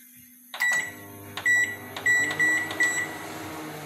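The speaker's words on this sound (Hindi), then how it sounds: "देखिए, इसे माइक्रोवेव में डाला," A microwave oven reheating pasta in a home kitchen starts up with a door clunk and a steady hum, punctuated by several short, bright beeps close by.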